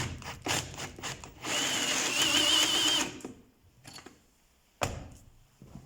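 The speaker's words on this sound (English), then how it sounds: "Drill down till we see copper ring." A power drill bores out a stuck carburetor screw on a Yamaha XJ550 motorcycle, whirring steadily for about two seconds up close, with scraping and handling noises before and after and a sharp clank near the end.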